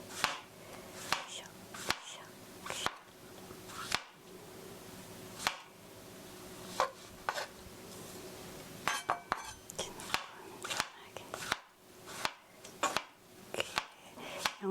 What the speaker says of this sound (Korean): 양송이 한 팩은 얇게 잘 다 썰었습니다